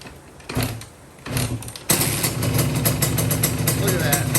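A rebuilt Kawasaki KX125 two-stroke dirt bike with a new exhaust pipe sputters, catches and revs up into a loud, raspy, buzzing run, close by, with a voice speaking briefly.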